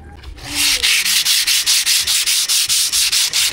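Rhythmic back-and-forth strokes of sandpaper on metal, loud and close, about four per second after a brief quiet start.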